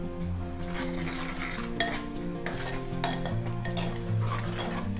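Tamarind water stirred into a sizzling pan of thudhuvalai kuzhambu, a close bubbling fry with spoon scrapes and light clinks against the pot, steady and moderate in level, no talking.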